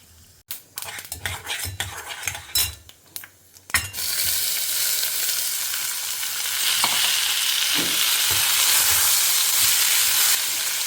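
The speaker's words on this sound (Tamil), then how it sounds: "கடுகு உளுத்தம்பருப்பு கடலப்பருப்பு வத்த மிளகாயை போட்டுடலாம் பருப்பு செவக்கட்டும் கடுகும் பொரியட்டும்" Mustard seeds, urad dal, chana dal and dried red chillies hit hot oil in a pan, and a loud, steady sizzle builds after a few clinks of a spoon and pan.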